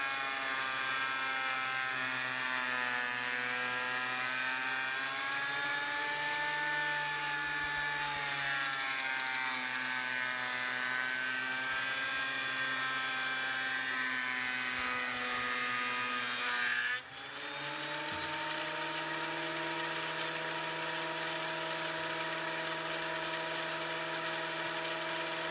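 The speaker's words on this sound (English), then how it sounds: "I ran a board through the planer" A wood planer feeds chainsaw-milled boards, giving a loud, steady mechanical whine with a constant hum underneath that runs without a break, dipping briefly as the load changes.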